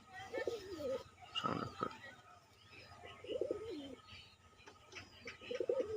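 Soft, rolling coos of a male black-marked pigeon repeat in short bursts, fairly close, with a brief flutter-like rustle between them.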